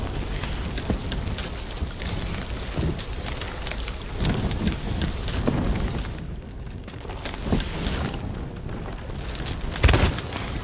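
Heavy rain pours steadily during a thunderstorm in a video game, with low rumbling thunder rolling underneath and a brief louder crack near the end.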